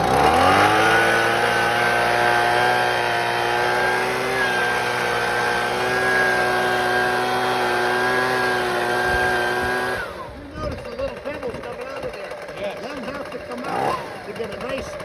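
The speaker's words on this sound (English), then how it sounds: "once you got the blower going, what do? We got to clean out all the debris that's inside the cracks." Blower clearing loose debris out of pavement cracks, a loud steady engine drone for about ten seconds that then turns rougher and more fluctuating as the air stream hits the cracks.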